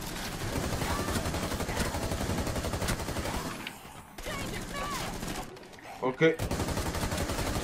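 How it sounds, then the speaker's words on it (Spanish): Rapid bursts of gunfire crackle loudly in the video game Rainbow Six Siege, Outbreak mode, pausing briefly before a few heavier shots; a voice speaks a word in Spanish over the shooting. "Vale, otro disparo a la cabeza."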